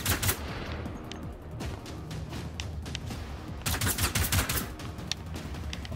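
Gunfire in the open-world shooter Generation Zero, rapid repeated shots in irregular bursts, fairly quiet and distant-sounding, with clusters of sharper cracks partway through.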